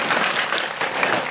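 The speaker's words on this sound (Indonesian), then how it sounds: "Tepuk tangan untuk Gondang Legi." At an Indonesian religious gathering, a large crowd gives loud, dense applause for the people of Gondang Legi, a steady roar of clapping that lasts the whole moment without a break.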